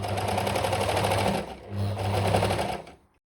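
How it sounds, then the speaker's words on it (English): A serger stitching three layers of stretch fabric for a boxer, a fast mechanical whir in two bursts with a brief slowdown between, then stopping. "we're going to sew them together with the serger"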